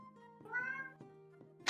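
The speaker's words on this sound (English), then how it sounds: "Meow." A cat meows once, close and clear, a short rising-falling call ending in a sharp burst, over a quiet room hum.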